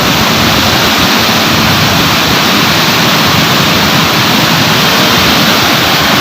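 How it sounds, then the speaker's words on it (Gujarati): Dam water released into the Sabarmati river at the Ahmedabad riverfront, from the Dharoi dam, rushes past a bridge in a loud, steady, broadband roar that holds without a break and with no voices. "આ પાણી છોડેલું છે"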